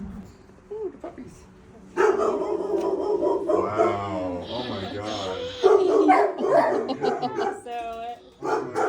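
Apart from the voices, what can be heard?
shelter puppies barking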